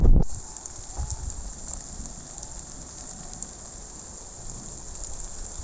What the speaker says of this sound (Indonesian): Ini sudah mulai turun hujan ya